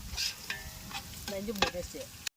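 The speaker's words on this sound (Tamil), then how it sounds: "எல்லாம் வதக்கிட்டு இருக்கோம்" Ingredients being sautéed in oil in a pan while cooking biryani, with scraping stir strokes over a soft sizzle, close and moderately loud, ending abruptly.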